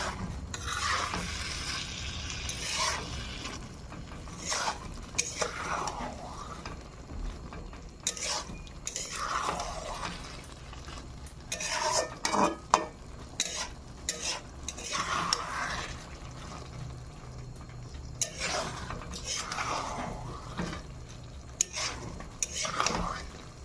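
Khichuri ingredients sizzle in a pot while a spoon scrapes and stirs them in repeated bursts, with clinks of metal on the pot, close and fairly steady over a low frying hiss.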